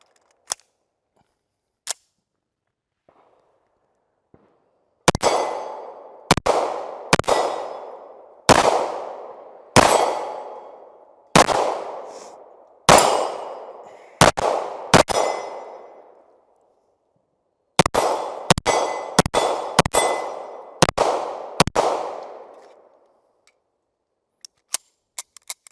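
A CZ Shadow 2 Compact pistol fires two strings of sharp, loud shots, about eight evenly spaced and then a faster burst of about six, with steel targets ringing briefly after the hits and a few faint pops before and after.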